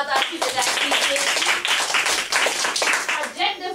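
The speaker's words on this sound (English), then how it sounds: "Let's give ourselves a round of applause." Students clapping in a classroom, a near burst of many individual hand claps in an uneven patter, with voices talking and calling out over it.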